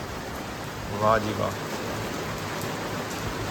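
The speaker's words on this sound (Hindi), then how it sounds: "अब माशाल्लाह जी काफ़ी तेज़ बारिश हो रही है" Heavy rain falls steadily outside a home, a constant dense hiss that holds through the whole clip, with a brief spoken exclamation heard over it.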